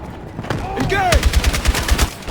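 Rapid automatic gunfire in the video game Battlefield 6, a burst of close, loud shots in an uneven rhythm following a brief whooshing sweep, with a voice faintly present in the busy battle mix.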